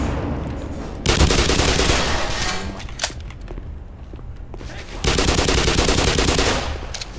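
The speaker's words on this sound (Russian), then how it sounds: "Блин, стрельба здесь прикольнее." Loud bursts of rapid automatic gunfire in the video game Black Mesa, two long sustained volleys with a lull and a single sharp shot between them.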